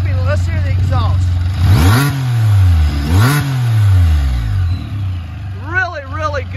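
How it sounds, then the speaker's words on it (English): An F3T motorcycle fitted with an Akrapovic exhaust revs loudly and close by, with several rising and falling throttle blips over a steady idle that swell and drop back. "Let's hear the exhaust."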